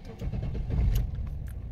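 A Nissan petrol car's engine turns over and catches, a low rumbling start with a faint jingle of keys, heard up close for under two seconds.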